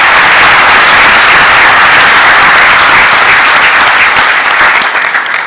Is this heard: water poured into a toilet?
no